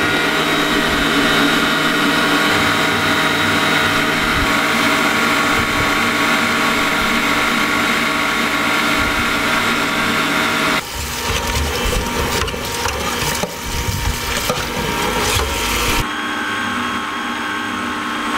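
An electric mixer whisks egg whites for homemade Montélimar nougat as hot sugar syrup is poured in. A loud, steady motor whirr runs throughout, and its tone shifts partway through into a rougher, rattling churn.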